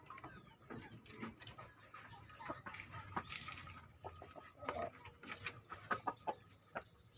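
Chickens in a backyard coop housing breeding hens and a young rooster cluck and call intermittently at a moderate distance, with scattered rustling and the faint murmur of a person nearby.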